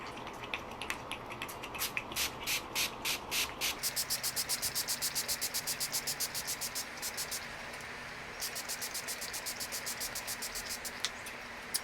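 K&N cleaner sprays onto a Jeep JL cabin air filter in short rapid pump bursts, a long run of quick hissing spritzes close up, followed by a pause and a further series of sprays.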